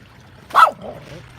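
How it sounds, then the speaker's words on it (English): A single dog bark, fairly close and sharp, rising briefly out of quiet background and fading into a softer trailing whine or murmur. "he's barking at a dog"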